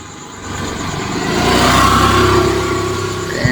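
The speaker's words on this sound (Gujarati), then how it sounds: "આજુબાજુ થોડા ગાડીનો અવાજ આવે પણ સાંભળી લેજો કારણ કે રસ્તા પર જ બેહેલો છે" Traffic on a roadside where someone sits recording, with a car engine swelling as it passes close by, a steady rumble that rises to a peak and then eases off. No one talks.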